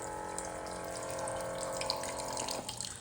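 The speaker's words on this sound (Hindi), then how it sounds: "इलेक्ट्रिक पंप आप प्रेस करते हो तो पानी आता है" Water from an electric pump dispenser pouring steadily into a glass, a continuous close splashing flow that cuts off near the end.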